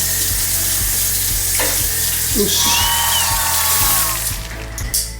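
Water running and splashing into a container, a steady rushing wash with faint clinks and a short spoken word near the start.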